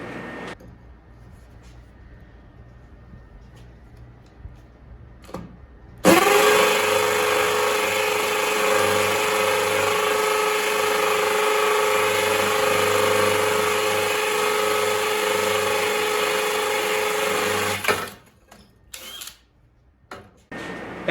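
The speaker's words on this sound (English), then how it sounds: "I'm going to drill another one just so you guys can see." A DeWalt DCD998 hammer drill bores into wood in one loud, sustained burst of about twelve seconds with a steady whine, starting and stopping abruptly, with quiet handling noises before and after.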